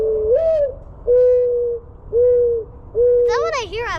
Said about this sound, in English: Morning dove.